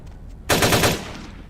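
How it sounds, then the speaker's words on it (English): Gunfire in Vampire: The Masquerade – Bloodlines, a short loud burst of rapid automatic shots lasting about half a second, with a fading tail afterward. "Who is he still shooting at?"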